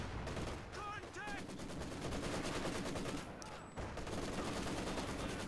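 Machine gun fire from the World War II strategy game Company of Heroes 2, with repeated rapid bursts from a pair of MGs over a dense battle mix, loud and continuous with a few short whistling effects.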